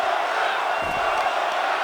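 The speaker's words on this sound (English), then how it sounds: "And the crowd is loving it." Wrestling event crowd cheering and roaring steadily in an arena, a dense, loud wash of voices that continues throughout the short moment.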